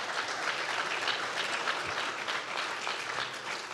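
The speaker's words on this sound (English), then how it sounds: "So can I get a round of applause?" A round of applause from a business presentation audience fills the room, dense and continuous at a steady level, with no talk over it.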